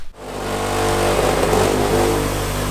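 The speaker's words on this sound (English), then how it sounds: "we're gonna get on the wire wheel, just clean it up so it's a bit nicer" A power tool's wire wheel spins up and grinds rust off a Nissan Silvia steering knuckle in a garage, a loud continuous whirring drone that rises quickly at the start and holds steady, with no talk.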